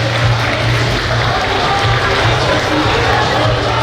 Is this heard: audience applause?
yes